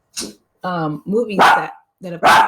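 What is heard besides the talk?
dog barking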